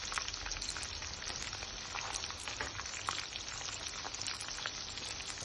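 Chicken cutlets fry in a pan, a dense, steady hiss and crackle of hot oil with countless tiny pops, constant and even throughout, quiet and close with no voices.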